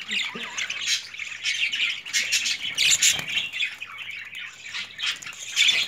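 Budgerigars squawk and chirp continuously in a cage housing about fifteen birds, a dense, bright, busy chorus of close calls with a brief human voice in the background.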